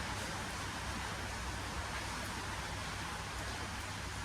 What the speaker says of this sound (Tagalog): Hindi pa rin tumitigil yung ulan eh. Lakas pa rin.